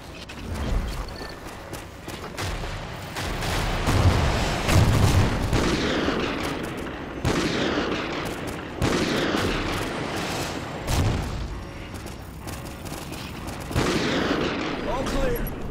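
Gunfire rattles in Call of Duty Ghosts, with repeated loud bursts and volleys that rise and fall over the whole stretch. Shouted voices are mixed in between the shots.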